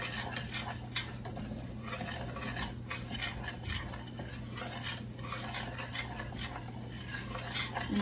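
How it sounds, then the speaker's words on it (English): Paste whisked together in a pan over medium-high heat, a steady close scraping and stirring that runs continuously with no talk. "you're gonna whisk this together over a medium-high heat till you make like a paste"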